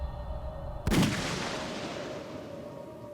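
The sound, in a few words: gunshot from the video game 428: Shibuya Scramble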